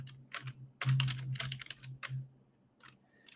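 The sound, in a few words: typing on a computer keyboard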